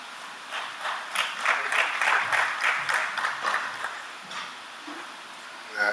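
Applause from an audience at a university job fair welcoming a Reserve Bank of Zimbabwe speaker, a burst of many hands clapping that swells then gradually thins out, heard alone without talk.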